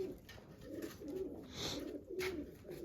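Soft, low pigeon cooing repeats steadily close by in a coop, with faint chirps above a quiet background hiss.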